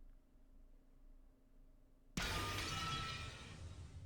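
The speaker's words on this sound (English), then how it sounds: "there was a violent sound of glass breaking" Glass breaking in the Umineko visual novel game: a sudden loud shatter after quiet music, followed by a sustained crashing spray of fragments.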